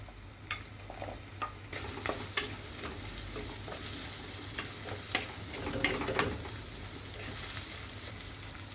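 Shallots and ginger fry in hot oil in a pan, a continuous sizzle broken by repeated scraping and clattering stirs of a utensil, close and fairly loud, with no speech.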